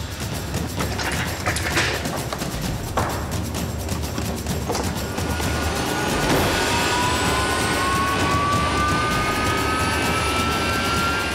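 Harrier fighter jet engines whine and roar nearby on an air base, with a rising high-pitched tone building over a steady, loud rumble.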